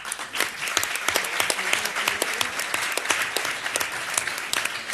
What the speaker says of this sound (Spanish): Aplausito.